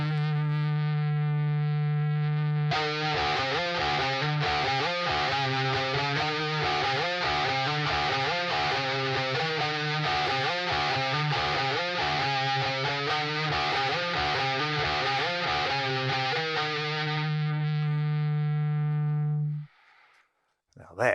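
Heavy, distorted electric guitar riff from a song, entering after a sustained low tone and pounding on in thick, chugging rhythm for about fifteen seconds before cutting off abruptly.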